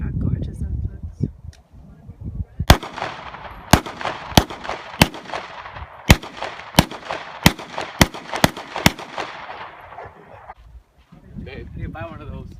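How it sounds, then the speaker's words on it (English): A Glock pistol and other guns fire about a dozen sharp, loud shots outdoors on a lake outing, spaced irregularly roughly every half second to second, with wind noise and occasional talk around them. "You gonna shoot the gun"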